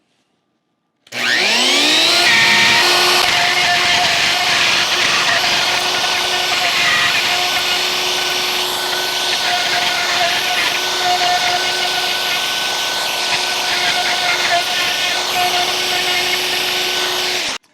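Router hogging out the tremolo spring cavity in a Stratocaster-style guitar body: a loud, steady high-pitched whine with a rising spin-up at the start, cutting continuously for about sixteen seconds without a break.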